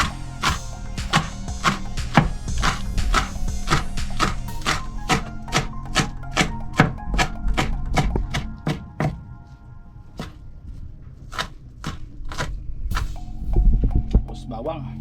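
A knife chops green onions on a cutting board in steady, sharp strikes, fast and evenly spaced at first, then pausing and resuming more sparsely, close and clear over a low background hum.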